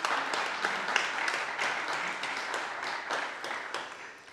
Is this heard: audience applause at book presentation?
yes